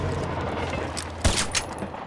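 Two sharp video game gunshots crack over a low background rumble, the first louder and the second following a moment later.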